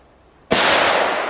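A crackling ball firecracker goes off with a sudden sharp bang halfway through, followed by a loud, sustained hiss of crackle that fills the rest of the moment after a quiet start.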